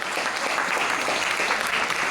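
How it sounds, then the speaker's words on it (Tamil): Steady, dense applause from an audience clapping for a song at a film's pre-release event, a continuous wash of hands throughout with no pauses. "கைத்தட்டுங்க, அருமையான பாட்டு."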